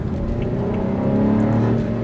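A 2014 BMW 428i xDrive engine revs steadily under acceleration through its power band, its droning tone climbing in pitch, heard from inside the car with no talking.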